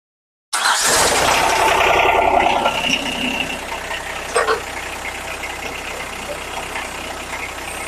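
A small farm tractor engine starts suddenly and then runs at a steady idle close by, a continuous mechanical rumble with a brief louder burst partway through.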